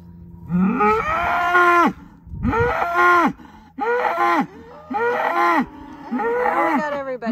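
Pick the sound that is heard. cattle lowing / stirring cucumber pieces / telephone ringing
cattle lowing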